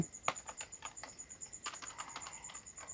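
Quick, uneven keystrokes tap on a computer keyboard while a school name is typed into MS Word, close and fairly quiet, with a steady electronic whine underneath and no talking.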